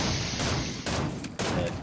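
Bursts of gunfire from an enemy player in a battle royale video game, shooting through trees, crackle loudly and continuously with brief gaps between volleys.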